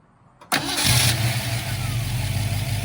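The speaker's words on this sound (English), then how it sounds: "we're gonna fire this 289 hypo up" A 1966 Shelby GT350H's 289 V8 engine cranks briefly, then catches and roars to life, settling into a loud, rumbling idle.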